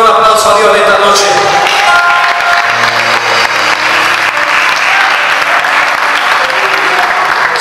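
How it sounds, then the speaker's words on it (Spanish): A congregation gives sustained, loud applause during an evening Spanish-language church service. The dense clapping fills the whole stretch at steady strength, with voices mixed in. "¿Cuánto le pueden dar un aplauso a Dios esta noche?"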